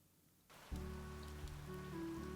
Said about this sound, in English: Oh, it's raining. Perfect.